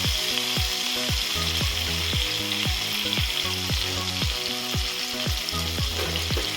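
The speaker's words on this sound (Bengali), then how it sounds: "কড়াই গরম করে আমি প্রথমে তেল দিয়ে দেবো, তারপর আমি এখানে চিংড়ি মাছগুলো দিয়ে দেবো।" Prawns fry in hot oil in a kadai with an intense, continuous crackling sizzle, overlaid by rapid, evenly spaced rhythmic knocks and clatters repeating about twice a second, no voices.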